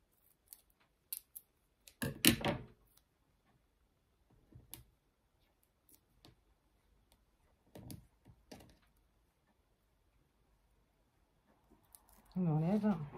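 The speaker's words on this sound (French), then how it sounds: "je coupe le morceau." Scissors cut a piece of paper for a small art card in a few short snips spread across a quiet table scene, with soft handling clicks between them.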